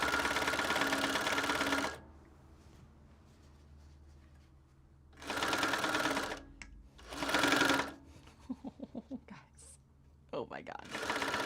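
A sewing machine stitches a fabric belt bag in short separate runs, each burst loud and close, broken by pauses while the bobbin is released and the corner turned, with a few faint taps and handling sounds between runs.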